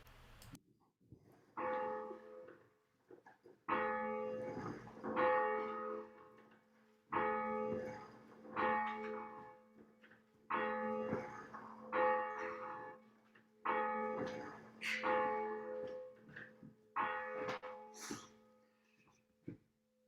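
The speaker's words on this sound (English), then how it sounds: "And over to our intrepid bell ringer, Jen, in our bell tower." A church bell rung from the tower sounds in a steady series of about eight strokes, each ringing out and decaying, loud and resonant with a sustained hum between strikes.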